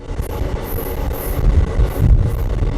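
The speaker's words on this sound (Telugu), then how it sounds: "అటు అవతల నుంచి ఒక ట్రైన్ వస్తుంది," A train rumbles past on the adjacent track, heard from inside a moving express train, with a heavy low roar, rhythmic wheel clatter and faint high squeals, loud and close throughout.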